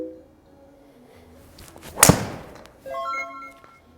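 A single sharp impact as a golf driver strikes a ball on an indoor launch-monitor setup, one crisp loud crack standing out from a quiet room, followed by faint electronic tones.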